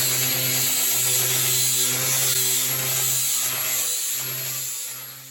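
A power tool grinds rust off a bare steel barrel being turned into an offset smoker firebox wall, a steady loud abrasive whir with a constant motor hum and slight rasping variations, running continuously before easing off at the end.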